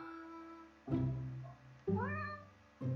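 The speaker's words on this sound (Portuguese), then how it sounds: "É a gata da minha mãe." A house cat gives three distinct meows, each rising and falling, fairly close to the microphone, over a steady low background hum, with no talk during the calls.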